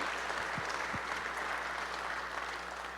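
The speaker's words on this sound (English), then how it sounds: "Let's do another big round of applause." An audience in a church claps after a fall concert, a continuous, moderately quiet round of applause that tapers slightly toward the end, with a low room hum beneath.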